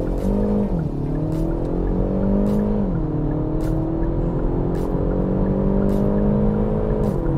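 Kia Proceed GT or Skoda Octavia 1.8T heard from inside during a full-throttle 0-100 km/h run: a loud, steady engine drone climbing in pitch through each gear, with two brief dips at the shifts, and no talk.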